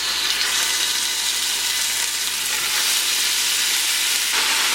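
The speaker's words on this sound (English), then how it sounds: "And now we are going to add our meat." Ground beef sizzling and frying in hot oil in a pot, a loud, steady hiss that keeps going without pause and with no voices.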